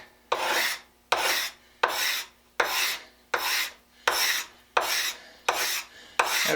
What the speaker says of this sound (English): you're running that scraper across the wood